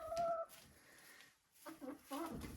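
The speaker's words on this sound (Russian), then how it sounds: "Это 3 курочки Адлер серебристый" A few Adler silver hens give soft, faint clucks and short calls in two bursts separated by a near-silent gap, close by and quiet.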